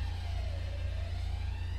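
A police siren in the video game GTA wails in a slow rising and falling sweep under a heavy low rumble, heard briefly and moderately far off with no talking.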